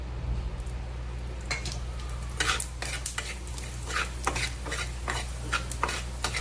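Whole coriander seeds dry-roasting in a little oil in a pan, with repeated scraping and stirring strokes over a steady low sizzle, close and moderately loud.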